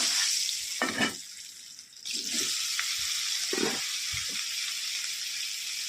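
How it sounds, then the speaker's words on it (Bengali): Homemade paneer pieces fry in salted oil in a wok, a steady close sizzle broken by a few stirring knocks and bursts of spattering. "এখন এগুলোকে পনিরগুলো এখন ভেজে নেব কড়াইতে তেল দিয়ে দিয়েছি"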